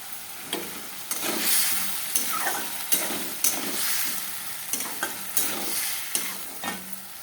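Boiled potatoes frying and being stirred into a spice masala, a steady close sizzle broken by repeated sharp scrapes and clacks of the spoon against the pan, with no talking.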